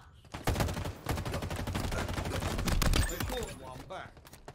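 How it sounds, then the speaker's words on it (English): Dense automatic gunfire rattles in rapid, continuous bursts during an Attrition battle royale match in the video game Halo Infinite, loud and close for several seconds before trailing off, with a voice briefly mixed in. "Oh, I'm getting shot."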